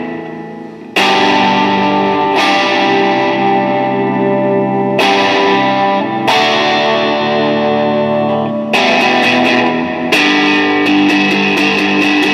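Electric guitar played through an EHX Cathedral reverb pedal in room mode, with sustained strummed chords struck every few seconds, each ringing out with a short, roomy reverb tail, loud and alone.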